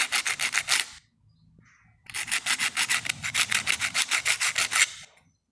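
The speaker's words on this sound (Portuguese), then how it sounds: "Vou lixar mais um pouquinho do outro lado." Someone hand sands a washing machine thermal actuator part in quick, even back-and-forth strokes. A short burst of about seven rasps is followed by a pause, then a longer run of about fifteen strokes, close up and with no talking.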